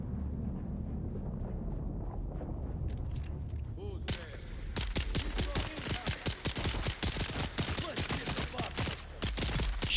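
Gunfire in the survival video game Dune on the EU Numenor server, rapid repeated shots in bursts over a low ambient rumble, beginning partway through and continuing densely to the end.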